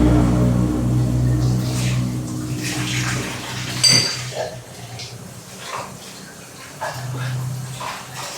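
Dishes washed by hand with Joy dish soap under running water, with scattered clinks of plates and utensils and a steady watery wash throughout; a voice speaks briefly in the background.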